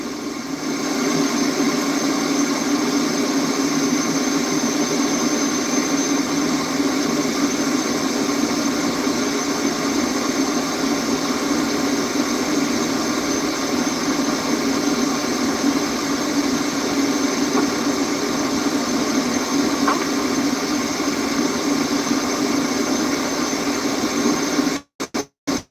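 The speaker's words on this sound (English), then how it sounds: "I am taking off here because this is a runway" A steady, droning aircraft engine from a video game throttles along without a break as the plane takes off on a runway, constant and fairly loud, then cuts out abruptly right at the end.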